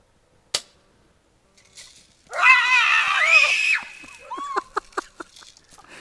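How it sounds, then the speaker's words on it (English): A woman screams during a family Christmas airsoft game, a loud wavering cry lasting over a second. A single sharp crack comes earlier, and a run of quick snapping pops follows the scream. "She's screaming."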